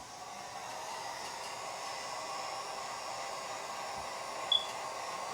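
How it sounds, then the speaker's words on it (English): A heat gun blows a steady, even hiss of hot air while defoaming freshly poured epoxy resin, running close and uninterrupted throughout. "We might try to help it a tad bit with the heat gun."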